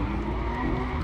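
Cars drifting and racing at the New Limits motorsport event in Logatec, a steady loud engine roar with tire noise filling the whole moment, no voices.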